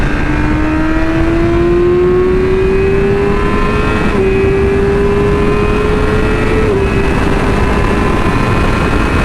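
Yamaha R6 or Kawasaki Ninja 400 sport bike accelerating hard on a highway at night, a loud, steadily rising engine whine that climbs through the gears with brief shift dips, wind roar underneath, close and alone.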